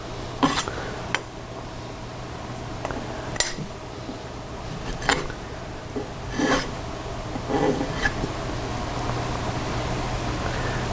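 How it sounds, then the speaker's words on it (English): An old metal file is worked along metal edges and corners. Sparse, sharp rasping strokes and scrapes come every second or two over a low steady hum, close but fairly quiet. "junk files that I use for cornering and edging"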